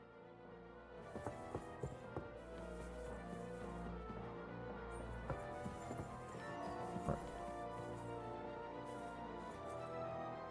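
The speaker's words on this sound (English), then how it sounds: "The horses are here." Horses' hooves clip-clopping in a video game, a quiet, steady patter of hoofbeats with a few sharper taps, set against a low background bed.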